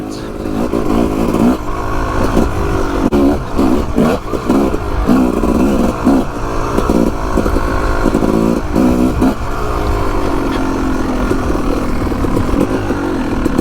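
A Yamaha YZ250 two-stroke dirt bike rides a trail and single track, its engine loud and close throughout, lugging at low revs with repeated revving bursts and throttle blips, with steady ringing exhaust drone in between.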